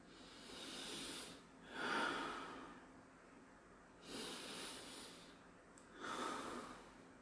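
A person breathes slowly and deeply, with about three long, airy inhale and exhale cycles spaced evenly, close and soft, with no talk.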